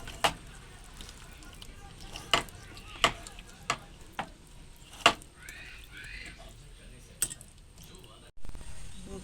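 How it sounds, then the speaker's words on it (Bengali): Raw hilsa fish being mixed by hand with mustard and poppy seed paste, a series of sharp clicks and soft squelching knocks against a bowl, spaced irregularly, with faint background noise. "সবকটা উপকরণ একসাথে ভালো করে মাখিয়ে নেব।"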